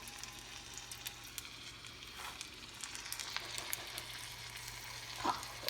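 Onion bhaji batter dropped into hot oil, a steady close frying sizzle with soft crackles and pops rising across the clip, no voices.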